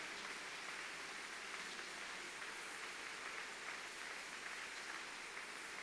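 A church congregation at a Holy Communion service claps together in a dense, steady roar of applause, distant and evenly sustained with no break.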